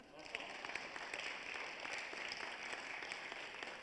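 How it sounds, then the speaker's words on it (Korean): Church congregation clapping during a Korean Sunday worship service, a fairly soft, continuous wash of applause with voices murmuring underneath. "이럴 때 박수 한번 안 치나요?"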